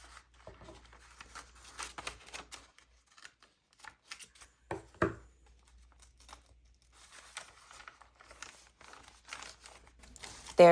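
Scissors snip through junk journal paper pages in short crisp cuts, close and fairly quiet, with light paper rustling and crinkling between snips and a brief pause in the middle.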